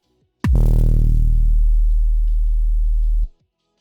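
A steady synthesized digital white noise texture from Serum with a heavy low-frequency hum, starting abruptly, holding level for about three seconds, then cutting off.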